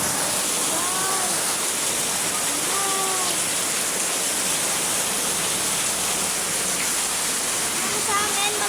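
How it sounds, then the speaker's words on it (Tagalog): Dense, loud rain pours down in a constant hiss, with a few faint bird chirps cutting through now and then. "napakalakas ng ulan"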